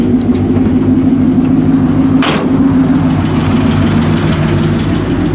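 A 1986 GMC K5 Jimmy truck engine runs at a steady idle, close and continuous with a low rumble and a faint tick, and a brief brighter burst partway through.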